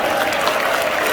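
A church congregation at a youth revival meeting breaks into applause, a short, loud wash of many hands clapping together.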